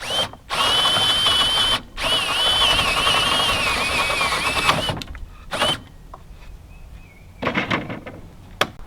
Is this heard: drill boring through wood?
yes